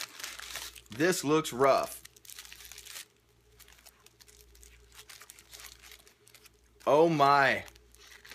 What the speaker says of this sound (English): I'm going to go ahead and unwrap this nasty bag of garbage and take a look.